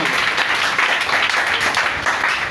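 A church congregation applauds God during a prayer service, a dense continuous wash of clapping from many hands, steady and fairly loud throughout with no clear pauses.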